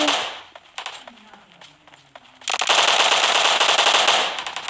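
Sustained automatic machine gun fire in the PUBG Mobile video game: a few scattered shots at first, then a loud unbroken burst of rapid gunfire in the second half, with a player's voice briefly heard.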